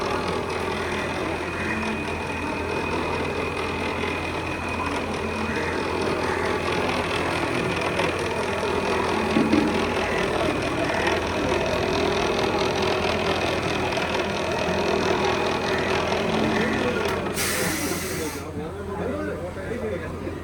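An old KSRTC bus engine, set up as a display model with visible pistons and gearbox at a transport expo, runs with a steady, close mechanical hum and rumble while people talk over it.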